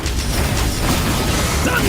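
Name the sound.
thunder attack in video game Genshin Impact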